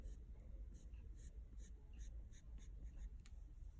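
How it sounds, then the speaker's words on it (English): A pencil lightly sketching lines and curves on paper, quiet rhythmic scratchy strokes in short bursts, close up, with a soft background hum. "Using your pencil, you're going to start lightly sketching 2 lines, a curve at the bottom."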